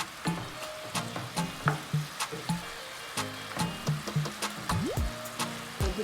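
Pork pieces browning in a hot pot for Jamaican stew pork, a steady sizzle and crackle with repeated light stirring clicks and scrapes, close and fairly loud, no talking.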